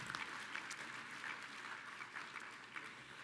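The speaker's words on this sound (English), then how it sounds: "Give me a round of applause." Audience applause at an award acceptance address, steady sustained clapping from a crowd filling the whole moment, moderately distant with no talking over it.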